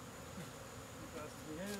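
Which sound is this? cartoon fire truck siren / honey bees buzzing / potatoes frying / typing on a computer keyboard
honey bees buzzing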